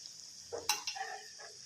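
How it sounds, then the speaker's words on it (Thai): Chicken green curry with coconut milk being stirred in a pot, a brief close scrape and light bubbling simmer lasting under two seconds, heard alone. "ค่อยๆคนคลุกเคล้าไปนะครับ"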